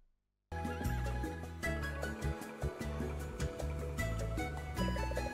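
A horse whinnies loudly amid layered game music and effects, with a clip-clop rhythm underneath, starting abruptly after a brief silence.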